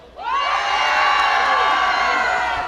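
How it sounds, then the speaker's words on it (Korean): A fan club crowd at an outdoor park opening-ceremony concert bursts into loud, sustained cheering and high-pitched screaming that rises suddenly and holds steady for several seconds. "무궁무진 팬클럽 소리 질러"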